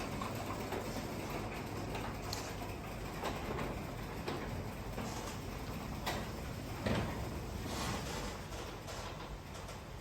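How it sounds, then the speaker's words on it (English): An aluminium garage door fitted with internal bristle seals rolls shut, producing a continuous rumbling, rattling run with faint ticks and brushing scrapes at a moderate distance. "This is what it sounds like when the door closes."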